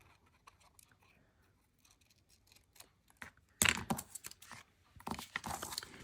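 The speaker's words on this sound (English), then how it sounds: "I'm going to trim this because I don't need that much here" Scissors trim paper for a handmade envelope craft, a few quiet crisp snips and rustles close by, louder toward the end, with no talking.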